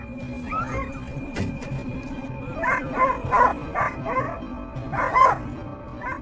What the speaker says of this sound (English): Hunting dogs, professionally trained, have become powerful weapons in the battle to protect farms from wolf attacks.